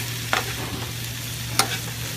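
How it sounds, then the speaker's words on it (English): Pasta in a hot pan with residual heat gives off a steady, quiet sizzle, with two brief scraping stirs. No one speaks. "you can hear I have some heat in the pan now"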